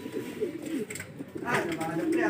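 Racing pigeons arriving home coo softly in a few low, throaty bursts, heard close by with some background noise.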